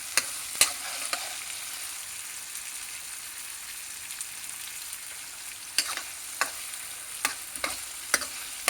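Masala wheat rava fries in a pan with a soft, continuous sizzle while a spoon scrapes and stirs, giving occasional sharp clicks against the metal.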